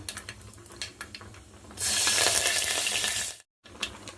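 Turmeric powder and curry leaves hit hot oil in a pan, setting off a loud burst of sizzling that starts after a few soft clinks and runs steadily for about two seconds before a brief cutoff.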